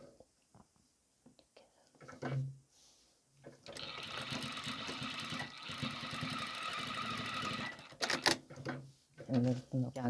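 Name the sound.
sewing machine stitching fabric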